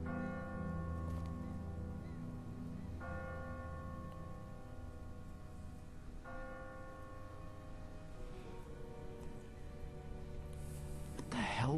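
Church bell tolling in The Walking Dead video game, steady resonant strokes ringing over a sustained low drone with speech nearby.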